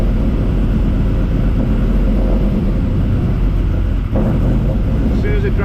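A Camaro engine with a tunnel ram intake, a loud continuous low roar held at steady high revs that briefly dips near the end, with wind buffeting the microphone.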